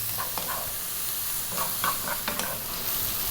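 Bacon frying over lively heat in a pan while being stirred, a dense steady sizzle with soft scraping strokes of the utensil, close and continuous.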